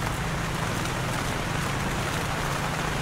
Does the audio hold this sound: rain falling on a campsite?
yes